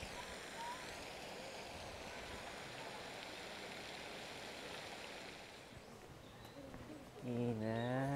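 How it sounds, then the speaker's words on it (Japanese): Rushing water outdoors, a steady, broad wash of flowing water that continues without a break and swells slightly louder near the end. "ガラガラガラ水の音って不思議だよね。"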